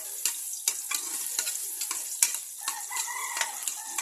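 Garlic and onion crackle and spit in hot oil as the base for chicken feet adobo, a steady close sizzle broken by frequent sharp pops.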